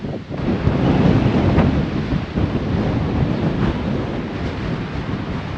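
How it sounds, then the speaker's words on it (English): Strong wind on the Moroccan coast buffets the microphone with loud, continuous low roaring gusts that swell and ease without pause, and no voices. "the wind has indeed got up"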